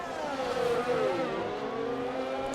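A Formula 1 car at the Chinese Grand Prix in a racing game screams steadily, its engine pitch bending down then climbing again as it works through the banked corner, loud and close throughout.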